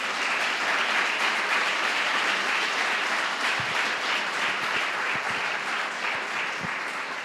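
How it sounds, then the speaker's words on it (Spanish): A church congregation gives a loud, sustained round of applause, dense clapping filling the space at an even level throughout without pause. "Dale un fuerte aplauso al Señor."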